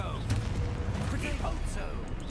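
A Confringo explosion spell cast during combat in the video game Hogwarts Legacy, heard as dense, crackling blasts and booms over a busy rumbling battle backdrop, with a voice shouting over the action.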